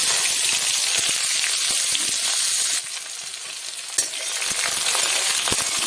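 Chopped onions drop into hot oil already seasoned with bay leaf, cinnamon, cardamom and cloves, giving a loud, steady sizzle with stirring scrapes and a brief dip near the middle.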